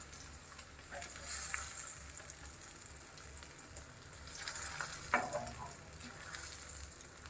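Chopped onions sizzling in a pan on a gas stove for egg paratha, a steady soft frying hiss with faint stirring and clinks, fairly quiet and with no talking.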